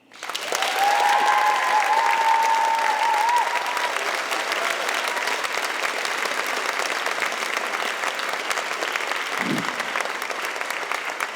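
A large audience applauds steadily to welcome Nicole Broder and Roxane Gay onstage, a dense, loud wash of clapping that holds for about eleven seconds, with a few cheers early on.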